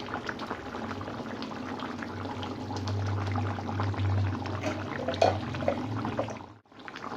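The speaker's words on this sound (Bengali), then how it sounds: "এই ফুটছে" A home pot of Bengali fish curry with gati kochu (taro) bubbling steadily on the stove, a continuous close, even boiling rumble that cuts off abruptly near the end.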